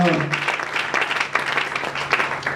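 A church congregation claps at a praise service, a dense burst of applause running the whole moment, close and lively, with voices mixed in underneath.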